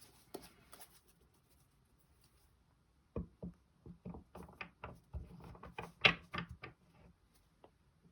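Tarot cards are shuffled by hand: after about three seconds of near silence comes a loose run of soft, irregular taps and flicks, close by and fairly quiet, with no talking.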